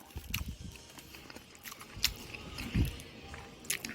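Close, wet chewing of a fried chicken wing, with irregular crunchy bites and squishy mastication sounds, one heavier crunch near the middle, against a quiet room.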